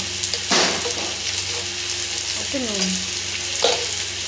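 Cumin, chili and turmeric powders frying in a pan: a steady, close sizzle with a few scraping stirs, and a short spoken phrase partway through.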